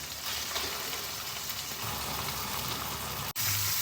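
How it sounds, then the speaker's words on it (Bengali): Chicken sizzling and frying in a pan with ginger paste, a dense, steady crackle heard up close that cuts off abruptly near the end and then resumes. "এবার আমি এর মধ্যে চিকেনটাকে দিয়ে একটু কষাবো।"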